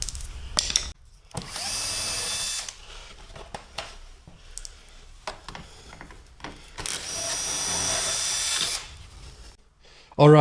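A power tool loosens 8mm bumper bolts on a neglected R53 Mini Cooper S, sounding in two long, loud bursts separated by short clicks and handling noise, with a final sharp burst at the end.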